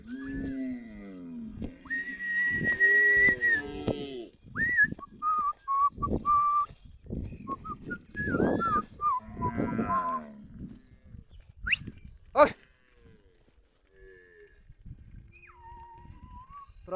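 Ankole cattle on a pasture give several drawn-out lowing moos of varying pitch, interspersed with higher whistles and a sharp click, fairly close and uneven in rhythm, with quiet gaps near the end.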